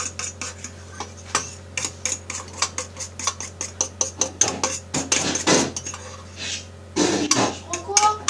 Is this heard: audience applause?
no